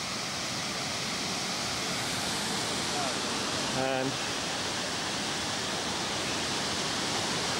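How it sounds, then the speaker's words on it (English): A small but strong waterfall pours steadily down rocks, a continuous broadband rush close by, with a brief spoken word near the middle. "this is a little waterfall"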